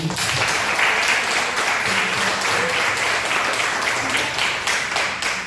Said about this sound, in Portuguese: Eu queria ouvir uma salva de palmas para Jesus.